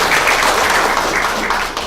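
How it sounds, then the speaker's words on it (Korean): Brief burst of dense audience applause for team leader Kim Hyun-ju at a regional employment academy session in Jeonju, steady and fairly loud for under two seconds before tapering slightly. "김현주 팀장님께 다시 한번 큰 박수 부탁드리겠습니다"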